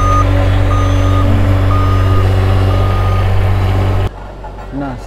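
A heavy vehicle being unloaded at a road collapse repair site gives off loud, steady reversing beeps over a deep idling truck engine, then cuts off abruptly near the end, leaving quieter background.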